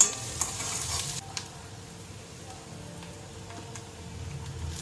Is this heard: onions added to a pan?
yes